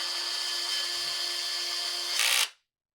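A cordless power tool drives screws into a Husqvarna 371XP chainsaw, a close steady whirring whine that rises briefly in pitch before stopping abruptly near the end.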